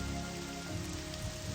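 Steady rain falling in the video game Morrowind, a constant dense hiss and patter of drops with no pauses, moderately loud and heard on its own.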